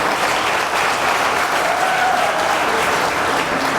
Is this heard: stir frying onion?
no